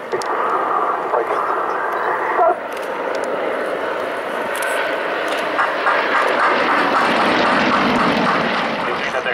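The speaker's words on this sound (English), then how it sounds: "Ik denk dat hij gewoon simuleert na boot dat hij weer opstijgt om dan zijn show officieel te beginnen." Aircraft engine roaring loudly as a plane takes off at an air show, a sustained broad drone that swells and shifts in pitch, with voices talking over it.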